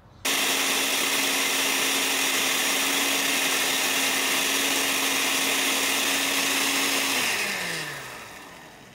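Kitchen blender whirring steadily as it blends milk, walnuts and banana for a banana-walnut atole, loud and continuous for about seven seconds before the motor is switched off and spins down.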